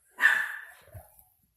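A pet dog gives a single sharp bark at moderate distance indoors, followed by a faint low huff, then silence.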